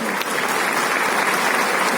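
Steady, dense applause from a large audience at a ceremony marking the CPWD's 170th foundation day, continuous and evenly loud throughout with no gaps.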